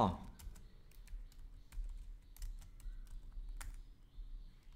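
Someone types on a computer keyboard, producing quick, light key clicks in bursts and close to the mic, with a soft voice talking faintly in the background.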